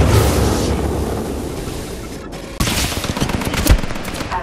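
Heavy gunfire in the video game Titanfall 2, a loud sustained barrage of rapid automatic shots with a brief break partway through before the firing resumes just as dense, with a sharp blast near the end.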